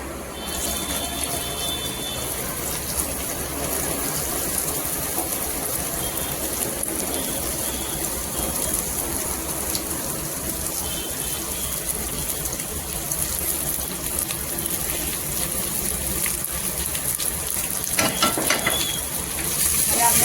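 Kantola, spiny gourd, tipped into a hot handi pot hisses in a steady, loud sizzle that continues for the whole stretch, with a brief clatter of stirring near the end.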